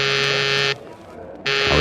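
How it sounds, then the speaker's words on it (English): A call buzzer sound effect from a radio drama gives two steady, loud electric buzzes separated by a brief pause, close and harsh with a constant droning tone. "I was thinking about it when the call buzzer zizzed in my ear."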